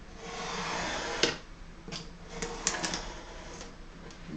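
Scissors cut through two folded layers of fabric for a handbag gusset, giving soft, close crisp snips and sliding crunches in an irregular rhythm over a faint background hiss.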